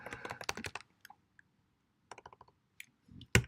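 Close, crisp computer keyboard typing in quick clustered bursts of keystrokes separated by short pauses, ending with a louder click.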